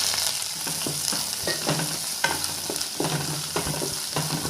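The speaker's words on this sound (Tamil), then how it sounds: "நல்லா எண்ணெயிலேயே வதங்கணுங்க." Onion sautés in hot oil in a pan for an arai keerai poriyal, a steady sizzle broken by repeated scrapes and knocks of stirring, close and fairly loud.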